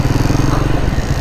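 A Triumph Speed 400 motorcycle out on a ride. The engine gives a loud, close, steady rhythmic thump as it cruises, with wind and road noise around it.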